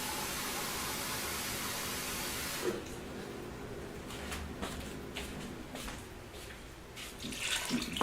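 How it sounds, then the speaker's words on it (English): Water from a can pours steadily into a pot of homemade spaghetti sauce, a continuous splashing rush lasting a few seconds, then giving way to quieter clinks and handling noises nearby. "I'm going to put one of these cans full of water in it."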